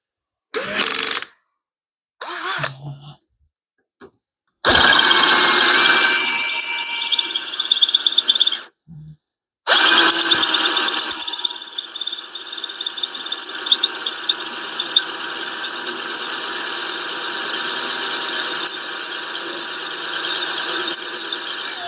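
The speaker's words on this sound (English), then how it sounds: "I gotta go sharpen my drill bit." A drill bit is sharpened on a power grinder in a workshop: short bursts of whining, then a long steady high-pitched grinding squeal that settles into a continuous buzzing hum.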